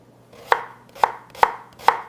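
A knife chops food on a chopping board steadied by a damp cloth underneath, giving four sharp, evenly spaced thuds up close with no talk.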